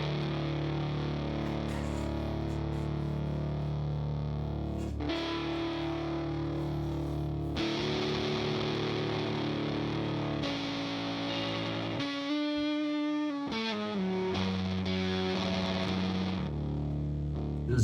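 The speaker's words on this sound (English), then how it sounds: "This is very distortion focused, this album, and overdriven." Heavily distorted, overdriven guitar music from an album plays continuously, loud and dense, shifting through several sections with sustained chords and a brief sparser passage near the middle, with no talking.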